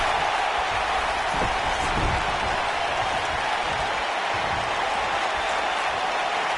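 Wrestling arena crowd in the WWE 2K19 video game at Hell In A Cell, a steady, dense roar of cheering and applause filling the whole stretch at constant loudness, with no clear talk over it.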